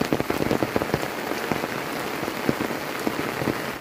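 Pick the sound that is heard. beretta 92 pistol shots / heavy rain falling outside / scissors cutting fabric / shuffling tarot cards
heavy rain falling outside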